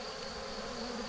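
Honeybees buzzing over wax-covered frames during a transfer of Spanish De Layens hives, a faint, steady, close hum without breaks.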